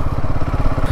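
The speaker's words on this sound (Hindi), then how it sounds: "स्किड कर रही है भाई बाइक तो यहाँ पे" A Scrambler 400X motorcycle on black ice gives a loud, close, steady engine thump with rapid, even pulses that chug throughout the second.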